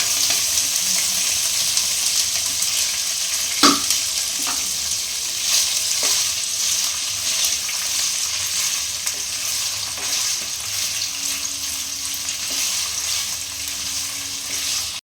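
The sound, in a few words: paneer frying in hot oil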